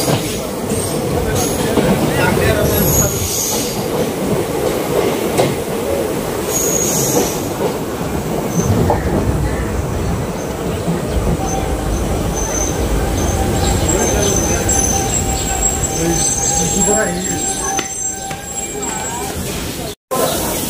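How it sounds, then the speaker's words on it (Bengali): A local train pulls into platform 1 at Azara station on the Goalpara–Guwahati line, a loud continuous rumble of wheels with squeals and rattles throughout, and a voice speaking over it. "1 নম্বর প্ল্যাটফর্ম আমাদের ট্রেন ঢুকেছে"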